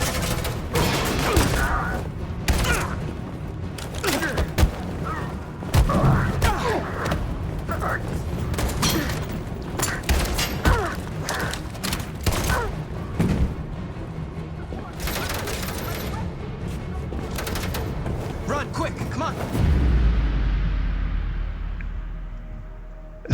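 In Detroit: Become Human, bursts of gunfire-like cracks and heavy booms go off aboard an exploding ship, irregular and loud, ending with a deep rumbling blast, while a voice talks intermittently.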